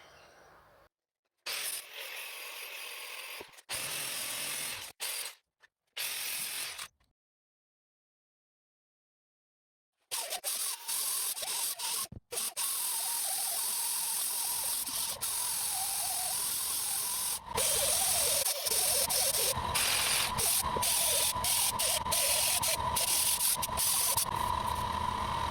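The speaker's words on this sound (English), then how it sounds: "So first step's going to be grinding all this out." Angle grinder cutting out an old weld and a crack on a steel racecar frame, heard in harsh, loud bursts broken by pauses early on, then running nearly continuously with shifting pitch as the disc bites the metal.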